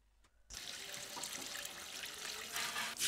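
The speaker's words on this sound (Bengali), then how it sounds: "ধানে এবার আমি জল দিয়ে দেব" Water pours steadily onto paddy rice being readied for boiling, a close, continuous splashing gush that starts abruptly after a short silence and grows slightly fuller near the end.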